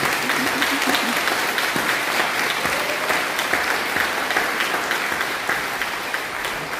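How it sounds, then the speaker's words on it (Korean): A church congregation claps at an ordination service for new pastors, sustained close applause with a faint voice under it at first. "박수로서 우리 영광을 드립니다."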